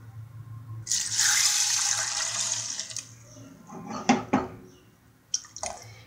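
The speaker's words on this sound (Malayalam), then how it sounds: "നമുക്കിതിലോട്ട് ആവശ്യത്തിന് വെള്ളം ഒഴിച്ചു കൊടുക്കാം." Water pours for about two seconds into a pressure cooker holding yam, green gram and green chillies, a loud, close splashing rush. A few sharp clinks and knocks of the pot follow.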